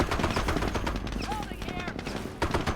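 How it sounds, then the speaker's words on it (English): Rifle and machine-gun fire in the Company of Heroes video game, rapid loud bursts of shots rattling continuously up close, with battlefield voices talking over it. "Fire! Fire! Taking rifle fire!"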